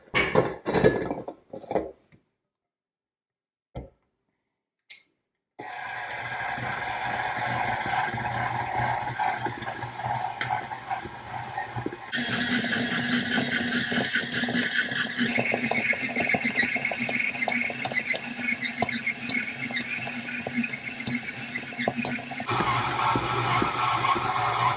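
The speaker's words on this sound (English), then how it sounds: "So now we'll knead it one more time in the mixer." A stand mixer kneads homemade pizza dough, starting after a few brief knocks and a pause into a steady, loud mechanical whir and grinding hum that shifts in pitch as the dough works, with no talking.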